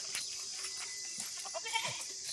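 Goats grazing outdoors bleat several times in short wavering calls, moderately close, over a steady high insect hiss.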